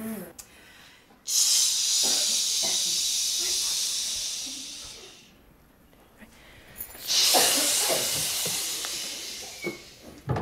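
Someone makes bursts of breathy mouth hissing in imitation of a shaker, two long shushing swells separated by quieter sputters and clicks.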